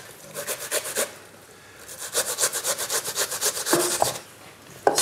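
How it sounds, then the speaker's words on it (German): Onion and potato finely grated by hand for potato pancakes: rapid, rhythmic rasping strokes across a grater, loud and close, with a brief pause before a final run of strokes and no talk. "So, Zwiebel und Kartoffel schön fein gerieben."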